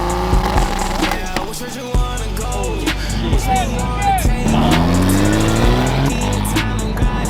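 Cars at a car show drive past with sharp revving and crisp gear-shift cuts, their engine pitch sweeping up and down, and a busy outdoor crowd can be heard around them.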